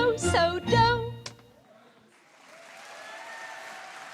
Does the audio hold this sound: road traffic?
no